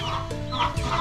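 Chickens clucking close by while a bird is being caught, several short, overlapping clucks with a louder burst near the end.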